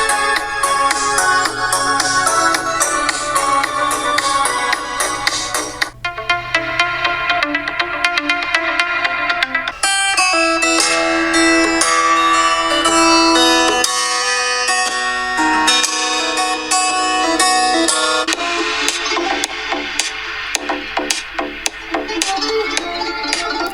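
A ringtone plays at maximum volume through the loudspeaker of a Doogee S61 Pro smartphone. It is a loud, dense musical tune that runs continuously for over twenty seconds, with a brief break and a change of texture near six and ten seconds, and no talking.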